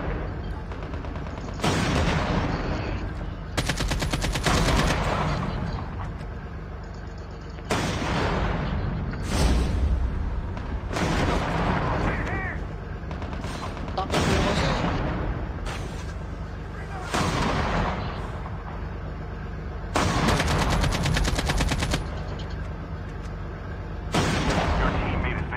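Heavy tank cannon fire and gunfire in the Call of Duty Mobile battle, with repeated loud broadband blasts and bursts in quick succession throughout and a voice talking in the clip.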